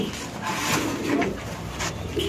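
Pigeons coo at a busy pigeon market, with soft repeated throaty calls mixed into a bustling background of nearby activity.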